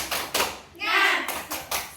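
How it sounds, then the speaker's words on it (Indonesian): A class of schoolchildren claps out the rhythmic 'tepuk semangat' chant, with sharp, grouped hand claps in a quick pattern and young voices chanting along, close and lively. "Ayo lagi biar semangat ayo. Tepuk semangat."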